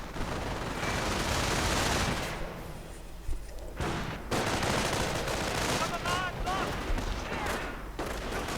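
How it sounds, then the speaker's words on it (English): Artillery and gunfire in a strategy video game: a dense, continuous battle din with heavy booms, rattling shots and explosions layered over one another, loud throughout with only a brief dip. "And more artillery going up for Dupans. Oh, snipers actually awfully close, getting mortared. And artillery going in."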